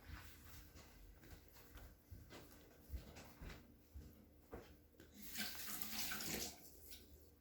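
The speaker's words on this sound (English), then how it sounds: "I am going to run over to the sink really quick and wash all this ink off my fingers" Ink washed off fingers at a sink, running tap water with splashing and hand rubbing, close but quiet, swelling into a stronger flow near the end.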